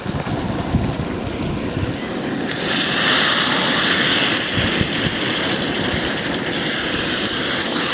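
Giant clam roast masala simmering with water in a pan, a dense, continuous bubbling and hissing boil that grows louder and fuller after the first couple of seconds.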